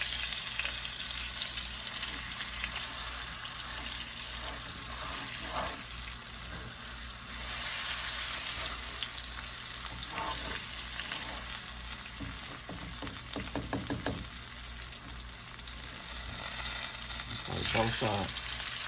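Pork chops cook in a Ninja Speedy air fryer, giving a steady, fairly loud sizzling, frying hiss that runs throughout, with a few brief clatters and stirring-like knocks near the end.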